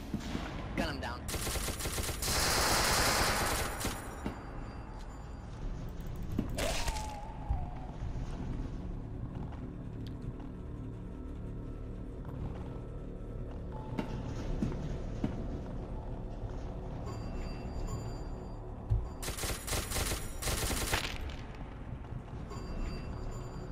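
Gunfire in the video game SCP: Secret Laboratory, with rapid bursts of loud shots and automatic fire that stand out at a few points, over ongoing game noise and occasional talking.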